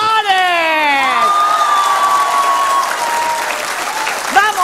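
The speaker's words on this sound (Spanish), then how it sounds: "Un aplauso para el Divo de Juárez." Studio audience on a Spanish-language talk show applauding for the Divo de Juárez, a loud steady wash of clapping with cheers and whoops over a rising and falling musical stinger, then a brief voice at the end.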